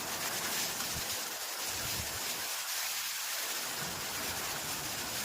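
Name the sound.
heavy rain in a thunderstorm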